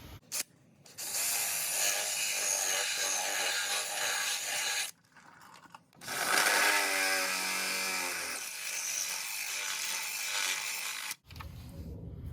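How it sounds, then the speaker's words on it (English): A power drill with a half-inch bit whirs and grinds, widening holes in long loud bursts, pausing briefly before starting up again. "I'm just taking a 1/2-inch drill bit and I'll wallow it out until it fits"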